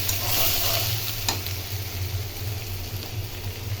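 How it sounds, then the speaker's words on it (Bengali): Chopped onions stir-fry in oil in a pan for a fish curry, a steady close sizzle with a brief scrape of the spoon partway through and no talking. "পেঁয়াজটাকে এখন আমি ভালো করে ভেজে কষিয়ে নেব"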